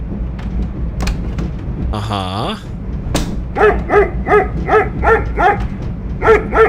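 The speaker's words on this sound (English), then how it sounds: "Gotta listen to these fucking dogs the whole time." Dogs barking in the 1997 PC adventure game The Last Express, a series of loud, close, evenly spaced barks over a murky game background, with a brief creaking sweep just before the barking starts.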